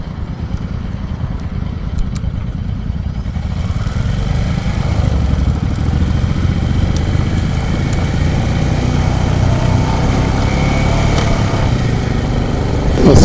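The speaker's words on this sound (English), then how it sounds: "Lots of nice pops and crackles from the exhaust on this bike" A Royal Enfield motorcycle on a group rideout near Folkestone runs with a steady, close engine drone that builds slightly toward the end. The exhaust pops and crackles are not clearly separable from the drone.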